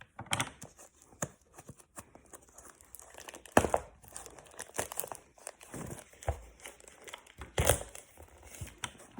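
Paper wrapping crinkles and tears as it comes off a heavily taped package during an unboxing, an irregular run of close, rustling crackles and rips with short pauses.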